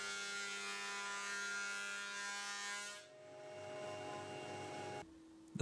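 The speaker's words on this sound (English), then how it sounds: "Then I just run it through the thicknesser to give it a quick clean up." Thicknesser planing a glued-up wooden panel gives a steady, droning machine hum that shifts in tone partway through, then drops away near the end, fairly quiet and without talk.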